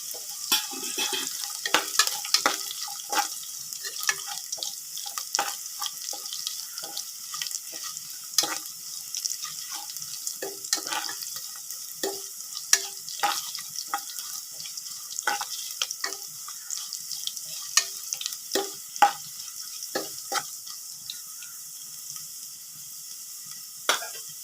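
Cashews fry in a pan for Ven Pongal, giving a continuous, even sizzle with frequent small crackles and pops as they are stirred. The sound stays close and steady throughout.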